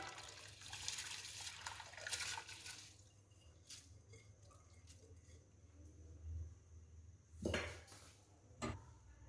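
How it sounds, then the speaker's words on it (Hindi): Rice tipped into a pot of hot water on a home stove for beef biryani, a soft watery pour and rustle followed by quieter kitchen clatter and a couple of sharp pot clinks. "पानी गर्म हो चुका है, अब हम इसमें चावलों को डाल देंगे"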